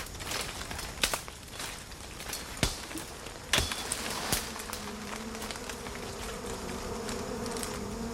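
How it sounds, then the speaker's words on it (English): Tropical wasps burn in smoke, giving off a few sharp, sudden pings and pops that stand out over a steady insect buzz and low background hiss, fairly close and alone without talk. "That pinging noise is the wasps exploding."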